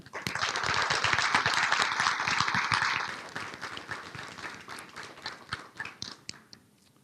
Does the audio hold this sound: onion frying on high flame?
no